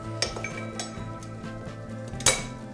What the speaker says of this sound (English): Whisk together the flour, baking soda, and salt, and then set that aside.